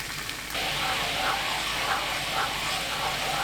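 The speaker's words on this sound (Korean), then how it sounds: "양념을 붓고 센 불로 끓입니다." A soy sauce marinade for duck stir-fry hits a hot pan and boils on high heat, breaking into a loud, steady sizzling hiss that runs on without pause.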